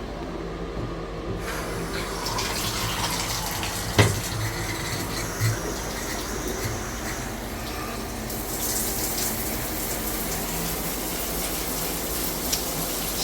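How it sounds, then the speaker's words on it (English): Water streams steadily through a newly installed shower filter, a continuous hiss and splash at moderate level with a couple of brief knocks, no talking. "it's going to charge the filter with fresh water"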